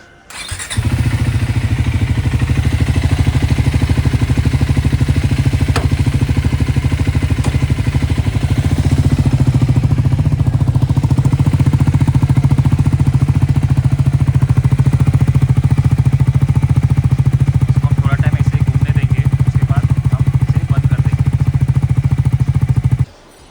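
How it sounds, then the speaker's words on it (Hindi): A motorcycle engine runs in first gear while the bike sits on its stand after chain cleaning and lubing, giving a loud, steady low drone that holds nearly unchanged for about twenty seconds, with no talking. "अभी मैं बाइक को ऑन करूँगा, फिर फर्स्ट गियर में डालूँगा, और जगह पे ही थोड़ा टाइम हम ऑन रखेंगे,"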